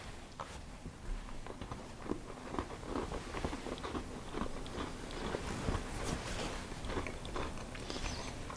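Repeated crisp crunching and chewing of a crunchy butter shortbread cookie made with a cookie press, close up, with a steady irregular rhythm and no talking.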